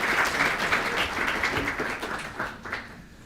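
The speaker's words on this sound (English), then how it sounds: "I think a round of applause for that" An audience applauds after a debate on evolution and God, steady close clapping that swells then gradually fades over a few seconds.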